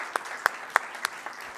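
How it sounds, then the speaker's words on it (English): A handful of separate claps ring out at a panel session on European energy, five or so sharp, fairly faint hand claps spaced unevenly, sparse rather than a full crowd. "let's finish the session with an applause for our excellent speakers"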